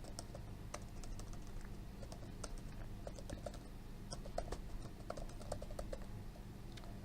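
Steady, fast typing on a computer keyboard with dense, irregular clicks, close and fairly quiet, alone with no voices.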